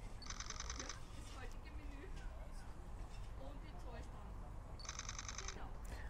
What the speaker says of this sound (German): und löse einfach aus.